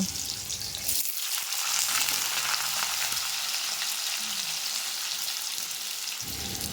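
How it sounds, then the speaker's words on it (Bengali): Cut potatoes fry in oil left over from frying paneer, producing a loud, continuous close-up sizzle with scraping stirring sounds that clatter at the start and end. "পনির ভাজা তেলের মধ্যে কেটে রাখা আলুগুলো দিয়ে ভেজে নেব"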